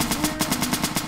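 Rapid automatic gunfire in a Roblox game, a fast, even burst of about a dozen sharp shots that runs steadily for roughly a second, loud and close, with no voices over it.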